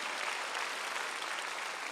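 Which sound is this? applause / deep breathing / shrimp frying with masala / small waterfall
applause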